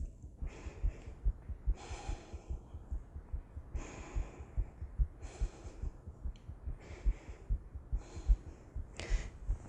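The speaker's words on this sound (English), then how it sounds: "3 deep breaths." Slow, deep breathing during a yoga flow, with several long audible inhales and exhales spaced a couple of seconds apart, close and breathy, with no talking.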